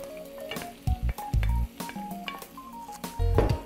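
Beef and onion browning in a pan for boeuf bourguignon, a close sizzle broken by bursts of stirring and scraping, with faint background music and no speech.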